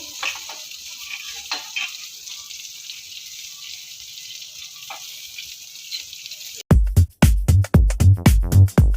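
Coriander seeds, cumin and sesame seeds sizzle in hot oil with green chillies for a ridge gourd chutney, a steady soft frying hiss that gives way to a run of loud, sharp, rhythmic knocks and clatters.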